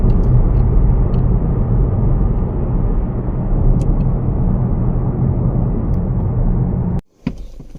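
A 2018 Honda Accord with the 1.5L turbo engine, running rich and stalling, drives along on a test drive. Its steady cabin rumble and road noise hold at a constant level, then cut off abruptly near the end.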